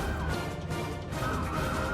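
Police sirens wail from outside through a continuous, loud, smeared background wash that fills the whole moment.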